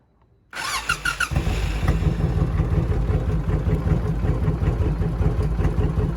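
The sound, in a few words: motorcycle engine starting and running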